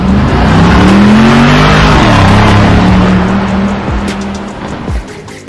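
A Mercedes-AMG G800 Brabus Widestar off-roader with a Brabus flap exhaust accelerates hard close by, its deep engine roar rising in pitch through gear changes before easing off, with a tire squeal along the way.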